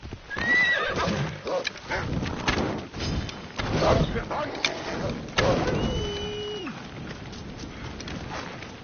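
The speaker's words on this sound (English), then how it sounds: "Looks like a sturdy horse." A horse whinnies loudly among clip-clopping hooves and scattered clatter in Assassin's Creed Odyssey, with an electronic, game-like tone and a gliding synthetic whistle near the end.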